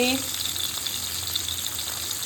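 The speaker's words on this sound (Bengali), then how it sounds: "এদিকে আমার কড়াইয়ে ভেটকি মাছ ভাজা হচ্ছে" Bhetki fish frying in oil in a wok gives a steady, close, continuous sizzle and hiss that holds an even level throughout.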